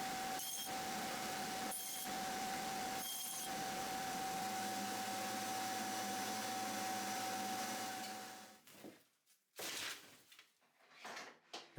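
A bandsaw cuts small 2x4 offcuts, giving a steady whirring drone with a few brief louder bursts, then spinning down and stopping, leaving scattered quiet knocks and handling noises.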